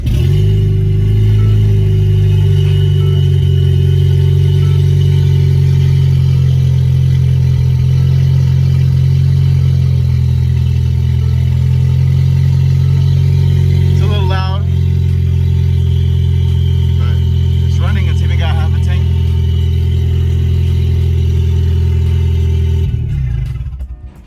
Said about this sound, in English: the exhaust kind of like popped off. So that's why the exhaust is loud